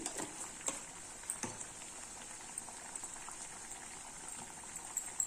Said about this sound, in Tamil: நல்லா கொதிக்க ஆரம்பிச்சு பாருங்க.